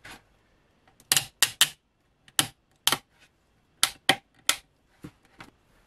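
Ratcheting clamps being tightened onto a Mandalorian armor pauldron, a series of sharp, close clicks in short bursts of two or three, separated by brief pauses.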